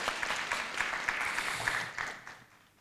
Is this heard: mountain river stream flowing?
no